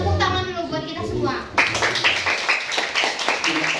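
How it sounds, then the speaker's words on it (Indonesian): Children in a classroom clap their hands together in a burst of quick, uneven applause that starts abruptly and keeps going, loud and close, after a teacher's spoken prompt. "tepuk tangan dulu buat kita semua"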